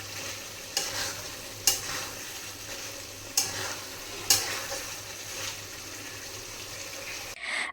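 Bitter melon and potato sabji being stirred in a pan on the stove, a steady low sizzle broken by several sharp scraping strokes of the spoon, close up with no talking.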